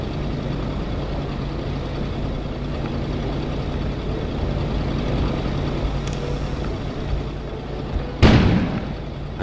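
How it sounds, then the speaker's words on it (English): Explosion outside during a snowstorm in the video game Kona, a sudden loud blast near the end after a long stretch of low rumbling wind ambience. "An explosion suddenly occurred outside."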